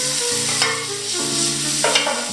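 Steady sizzling of carrots frying in hot oil in a pan, with a continuous crackle and some brief clatter from a pan or utensil.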